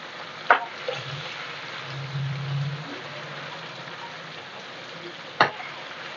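Chicken pieces roasting in hot oil for a Chinese-style chicken gravy, a soft, steady sizzle with two sharp utensil clinks and a low hum underneath.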